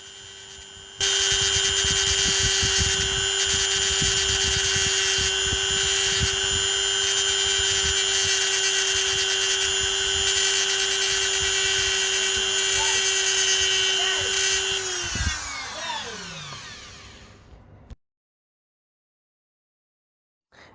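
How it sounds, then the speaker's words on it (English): A Dremel rotary tool grinds a toy wheel thinner, its steady high-pitched whine running loud and continuous for about fifteen seconds, then winding down as the motor spins to a stop, followed by silence. "I'm just spinning my Dremel against the wheel and I'm creating a narrow tire."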